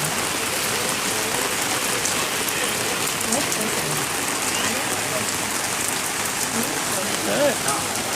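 Heavy rain pours during a thunderstorm in Benidorm, a dense, steady hiss of drops hitting surfaces that continues without a break, fairly loud and close, with no thunder cracks standing out.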